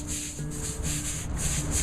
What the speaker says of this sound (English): then we'll just scrub it a little bit with one of the push brooms